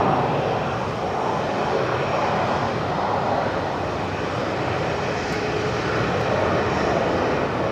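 A Velocity airliner, flight 1402, takes off from Brisbane Airport at night. The engine roar is broad, loud and steady from start to finish, with no other sound over it.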